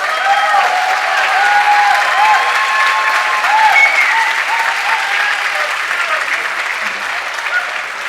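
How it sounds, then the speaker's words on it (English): A hall full of people applauds polo Hall of Fame inductees at an induction ceremony, loud dense clapping sustained for about eight seconds and slowly easing, with some background voices mixed in. "If you would all stand up and give them a round of applause."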